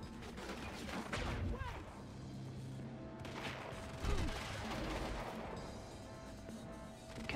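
Sniper rifle shots and gunfire crack through a chaotic Quantum Break firefight, with sharp impacts around one and four seconds over a dense background of game noise and faint voices.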